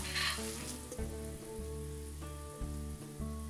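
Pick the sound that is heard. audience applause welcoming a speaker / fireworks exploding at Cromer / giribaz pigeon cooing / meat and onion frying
meat and onion frying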